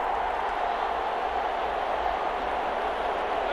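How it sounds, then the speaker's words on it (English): A distant stadium crowd at a Chicago Bears vs Las Vegas Raiders exhibition in Madden NFL 21 makes a steady, broad roar of cheering that holds without any clear peaks. "Crowd getting in it a bit already."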